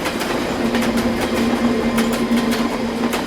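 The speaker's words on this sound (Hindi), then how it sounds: "यहाँ आसपास कोई ट्रेन जाती है?" Train passing close by, a continuous rumbling roll with rhythmic clickety-clack of wheels over rail joints and a steady low hum throughout, with no voices.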